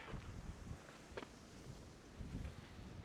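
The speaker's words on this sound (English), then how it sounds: "See how windy it is out here?" Steady outdoor wind buffets the microphone during an e-bike ride, a low rumbling roar with gusts swelling near the start and again toward the end.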